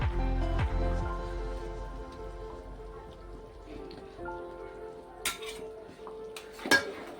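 Metal utensil scraping and stirring cashew paste inside a pot of chicken biryani gravy, with a few louder clinks and knocks near the end, no talking.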